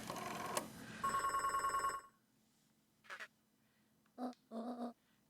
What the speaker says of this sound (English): she's making a phone call now.